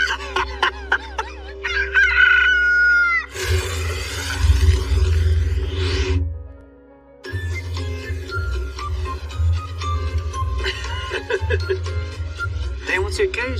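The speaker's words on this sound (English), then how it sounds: "Cock-a-doodle-doo." Rooster crowing loudly and close by, several drawn-out cock-a-doodle-doo calls with clucking in between and a short quiet gap midway.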